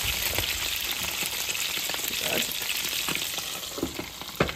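Omelette batter fries in a pan with a continuous bright sizzle, close and fairly loud, a few scraping taps and a louder clack near the end, no talking.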